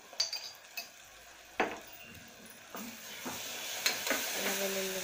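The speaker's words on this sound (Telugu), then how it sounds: "అల్లం వెల్లుల్లి ముద్ద వేసేసాను కదా, ఒకసారి మనం కలుపు కలిపేసి అది కాస్త బాగా వేగాలి" Ginger-garlic paste stirred and fried in a pan while cooking mutton, with soft scraping spoon strokes and clinks over a quiet, steady sizzle and hiss, no talking.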